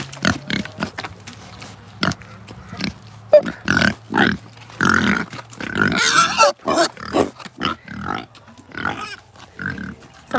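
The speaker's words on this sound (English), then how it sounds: "These are my big pigs." Large farm pigs grunt and snort steadily up close, a dense run of overlapping oinks and snuffles with a low hum underneath.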